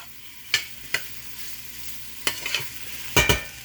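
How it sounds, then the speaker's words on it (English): Onions sautéing in a pot are pushed around with a spoon, giving a soft continuous sizzle broken by a few distinct scraping strokes and knocks against the pot, close and without talk. "Now you want to use your spoon, start moving it around, getting the onions coated."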